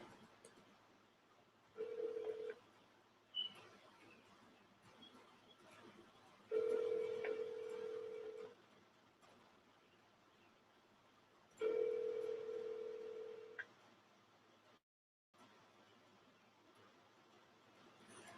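A phone line rings back while a call is placed, giving three evenly spaced long tones over low background noise, with a short click between them.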